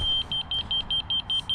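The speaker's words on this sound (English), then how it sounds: "You can hear the different beeps" A laser receiver beeps during laser level set up, giving a steady run of about a dozen short, evenly spaced high-pitched beeps, close and clear with no talking.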